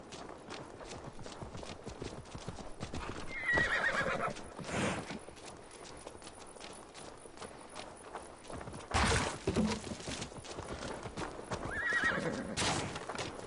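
A horse in the Assassin's Creed Valhalla video game neighs in a couple of sharp whinnies while its hooves clip-clop steadily on the ground, with occasional louder bursts of movement.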